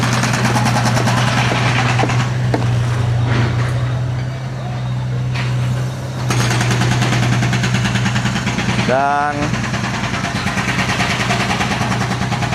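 Motorcycles and other vehicles pass on a road by a bridge under construction, with a continuous engine drone and a brief rising whine midway as one goes by. A voice speaks over the traffic.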